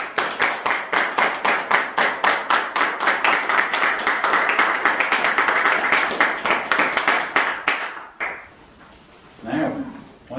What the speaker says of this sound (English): And we'll all give Leon a round of applause there.